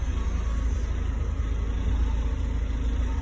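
A 2004–2005 Renault Kangoo van idles with a low, steady engine rumble, close and continuous, and no one speaks.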